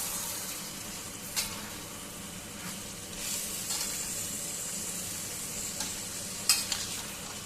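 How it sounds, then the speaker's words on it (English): Bengali-style chicken curry with potatoes sizzles in a pan while being stirred, with a steady frying hiss broken by several sharp scrapes and clinks of the spoon against the pot. "So just let me now mix everything and simmer for a while without adding any water or anything."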